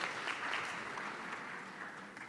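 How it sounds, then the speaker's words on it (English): Faint, distant audience applause at a Kenyan diplomatic dialogue event, a soft continuous patter of many hands that stays steady throughout. "please let's give her a round of applause."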